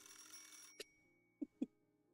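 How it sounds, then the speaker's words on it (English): A telephone rings inside an opulent manor house, a faint electronic trill over a quiet background, followed by a couple of short louder clicks or knocks. "inside an opulent manor house, a phone rings."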